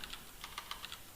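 Quick, light keystrokes on a computer keyboard, about ten clicks in an uneven rhythm, close and faint, with no talking.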